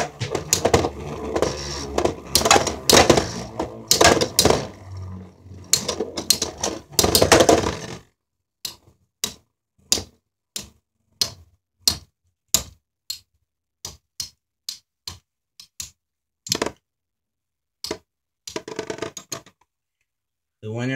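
Beyblade spinning tops Galaxy Pegasus W105 R2F and Sol Blaze V145 AS clash in a plastic stadium: a dense burst of whirring and rattling collisions, then a long run of sharp, separate clacks and ticks with pauses between them.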